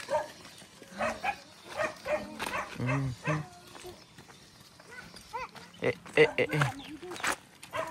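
Several dogs bark in short bursts around people talking nearby, the barks scattered and moderately loud amid the voices.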